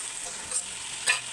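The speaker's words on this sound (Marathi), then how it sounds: "ती पण छानपैकी आपल्याला तेलामध्ये फ्राय करून घ्यायची आहे." Tomato paste made from four large tomatoes frying in oil, a steady soft sizzle with two brief stirring scrapes close by.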